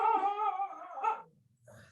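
Dogs whimper and whine in a drawn-out, pitched cry near the microphone, then a short low growl-like huff and a brief soft whine.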